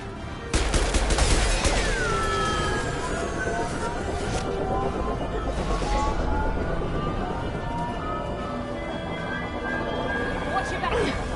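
Gunfire in Mass Effect 2 as the squad shoots at tubes, a loud opening volley followed by continuous rattling combat noise and whining effects, with voices shouting over it.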